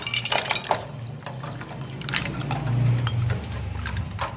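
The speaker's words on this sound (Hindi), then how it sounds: "अब इसके अंदर ठंडा पानी डालेंगे आइस वाला" Iced cold water is poured into reduced Kashmiri kahwa tea, a steady liquid splash and gurgle with a few clinks and drips, loudest near the end.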